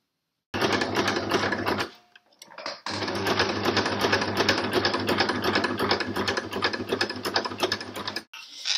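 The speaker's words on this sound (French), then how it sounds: "Une fois qu'on a fait sa couture au niveau de la fermeture" Close, loud sewing machine stitching a seam beside a zipper on a small pouch: a fast steady needle chatter running in two long bursts with a brief pause between, then stopping near the end.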